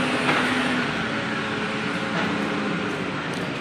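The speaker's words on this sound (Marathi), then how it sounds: "हा समोरच ट्रेनचा फाटक आहे या साईडला तिथून ट्रेन जाते" A train runs past a railway level crossing in Nala Sopara, Mumbai, a steady broad rumble and rattle holding at a constant level throughout without talk.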